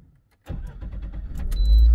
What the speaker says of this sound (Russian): Так, запускаем двигатель.